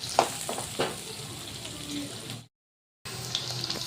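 Onion and green chillies frying in a pan for palak paneer bhurji, a close, steady sizzle with a few stirring knocks, cut by a brief silence before the frying resumes.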